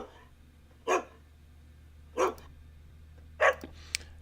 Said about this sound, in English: Here's dogs barking.